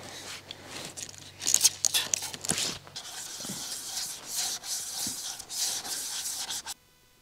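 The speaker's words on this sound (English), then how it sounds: "a mixture of vinegar and water, which I will spray on them and scrub them" Dishes sprayed with vinegar and water are scrubbed in a collapsible sink at a snowy winter truck campsite, a close brisk rubbing and scraping in bursts that stops abruptly at the end.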